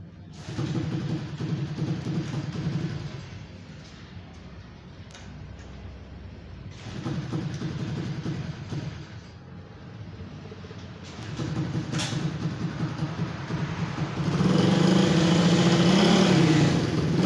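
Honda 67 motorbike, long unused and freshly washed, starting and running: an engine note rises and falls in several bursts, settling into a louder, steadier run near the end.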